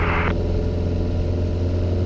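Piper Arrow single-engine aircraft at full power during takeoff roll from Monroe, North Carolina, a steady loud low engine drone with a brief hiss at the start.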